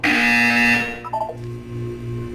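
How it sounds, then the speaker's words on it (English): A buzzer in the video game Portal 2: a loud sustained electronic tone that cuts off, followed by a quick run of short descending beeps and then a softer pulsing hum. "You will hear a buzzer."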